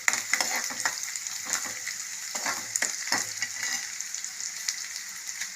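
Onions, curry leaves and green chillies fry in hot oil, giving a steady bright sizzle with crackling pops and occasional stirring scrapes, close and without talk.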